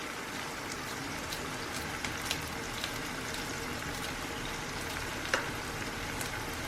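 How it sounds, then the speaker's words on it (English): Chicken with onions, ginger, garlic and green chilies frying in a pan, a steady close sizzle with small pops and crackles running throughout. "Still we need to fry for some time."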